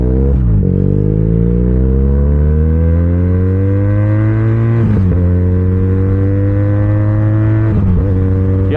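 An SRK 400 superbike rides along, its engine loud and close as it climbs steadily through the revs, with brief dips at each gear change before pulling up again.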